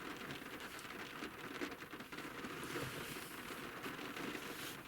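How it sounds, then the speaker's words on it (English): Steady rain falls on a hard surface, a dense even hiss with scattered drops and patter running the whole time at constant loudness, no voices. "The sound of rain is so beautiful."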